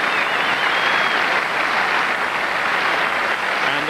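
A rugby stadium crowd at an England versus South Africa match in London applauds on its feet, dense sustained clapping that holds steady throughout with no voices over it.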